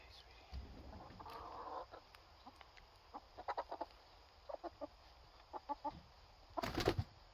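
Chickens being herded into their pen on a small farm give scattered short clucks and squawks over low rumbling handling noise, ending in a brief loud burst of wing flapping and squawking.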